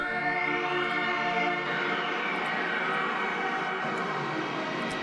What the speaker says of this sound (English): under that is layered this really ethereal sounding synth